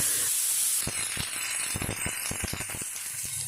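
Chopped onion and tomato hit hot oil and butter in a frying pan, starting with a steady hiss that turns into dense crackling sizzle with sharp pops scattered throughout, close up and without voices.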